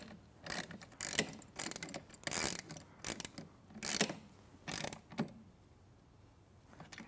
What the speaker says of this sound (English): I'm going to tighten the other nylock nuts that are sticking up